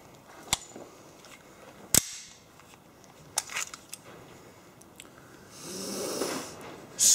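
A BRUNI MOD 92 blank-firing starting pistol, a few sharp isolated shots spaced irregularly, with one more near the very end, each loud and brief against a quiet background with some rustling.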